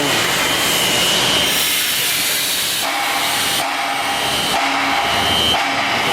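A PT16 screw press with a high-torque gearbox and 50 hp motor presses coffee grounds through a wedge wire screen, giving a loud, steady hissing roar with a faint whine that shifts in tone partway through.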